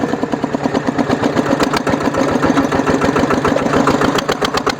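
A modified farm tractor fitted with a rotary tiller, its engine running steadily in second gear, gives a loud, close, continuous rhythmic chug with rapid regular pulses throughout, no talk over it.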